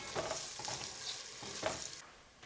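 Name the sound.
stirring onion frying in a pan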